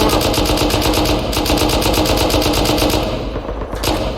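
Rapid, continuous machine-gun fire from a helicopter fight in the Rust video game, loud and sustained for the whole stretch with a brief dip near the end.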